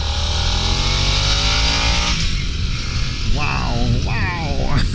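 2022 Harley-Davidson Nightster motorcycle accelerating hard, its engine note climbing in rising sweeps over rushing wind noise, heard up close.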